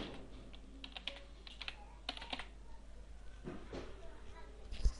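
Light typing on a computer keyboard while entering text in AutoCAD, short bursts of soft key clicks, close and fairly quiet, with a voice talking between them.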